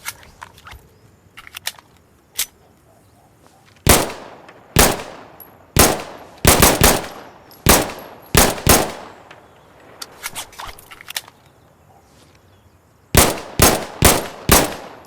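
Gunshots from the L106A1 pistol in the video game Insurgency Sandstorm, single sharp reports fired in quick irregular bursts with brief gaps between groups, loud and close with ringing decay.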